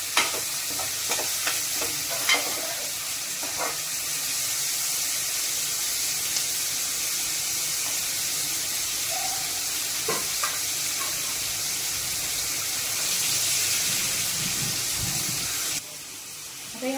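Onions fry in a pan for vegetable biryani with a steady sizzle and hiss, broken by occasional stirring scrapes and clinks, close and moderately loud throughout with no talking.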